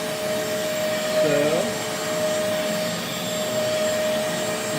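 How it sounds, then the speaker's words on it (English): Bissell Deep Clean Professional carpet cleaner running continuously with a steady loud whine and airy roar, pitch dipping briefly as it is pushed, close and without talk. "So I usually run the vacuum again to get those."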